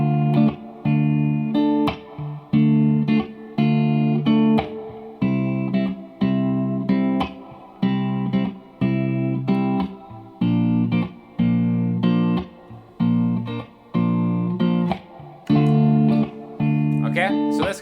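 Looped electric guitar chords step downward through a vi–V–IV progression in a repeating cycle, each chord struck and held briefly in a steady, even rhythm, loud and close.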